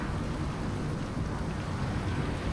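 Steady rain with a low storm rumble from the weather in the survival video game Icarus, a dense continuous wash that stays loud and even throughout with no talking.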